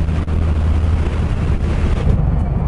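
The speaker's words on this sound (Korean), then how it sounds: "오늘 바람 진짜 많이 부네요." Strong gusting wind buffets the microphone while riding a Harley-Davidson Street Bob motorcycle on a coastal seaside road, a loud continuous roar with low rumble and no talk.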